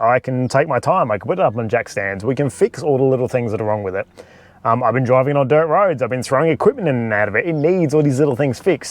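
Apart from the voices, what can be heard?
No everyday noises stand out.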